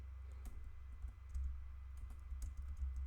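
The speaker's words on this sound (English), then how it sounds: "I could actually see what I'm typing" Typing on a computer keyboard while writing Python code: scattered light key clicks tap away at an irregular pace over a constant low electrical hum, close but quiet.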